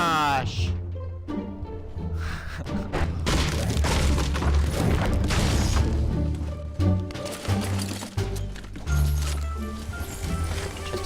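Rocket launcher blasts in a video game, heavy booms and thuds in a loud mix of game sounds, with a player talking over them.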